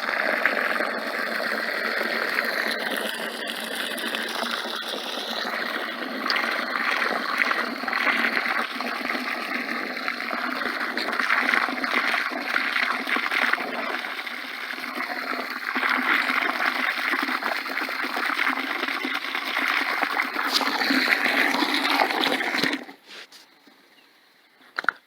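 Water poured steadily into a whitewash mix of lime, a continuous splashing gush heard close up for over twenty seconds before stopping abruptly near the end.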